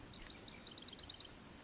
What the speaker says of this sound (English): Okay, there's a bird call.